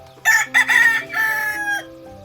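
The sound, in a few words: chickens crowing and clucking in a coop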